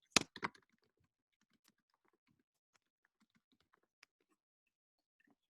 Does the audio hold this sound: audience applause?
no